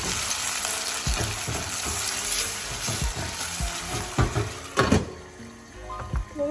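Onion, green chili and curry leaves frying in hot oil for a dry fish curry, a steady loud sizzle with stirring scrapes and clatters, swelling and bursting around the middle before easing off.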